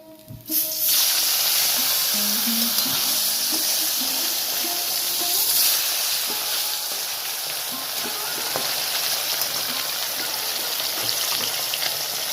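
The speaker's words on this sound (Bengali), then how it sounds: "এইভাবে আমি আরো মাছগুলো ভেজে নেব।" Steady, loud sizzling of katla fish frying in hot oil, a continuous crackling hiss with faint kitchen clatter underneath.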